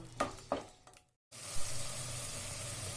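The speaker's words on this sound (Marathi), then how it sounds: "हे आता मी हा मसाला फ्राय करून घेणार आहे चांगला तेल सुटेपर्यंत" Ground spice masala paste frying in oil in a pea and potato curry: a couple of soft stirring knocks, a brief silence, then a loud, steady close-up sizzle that continues to the end.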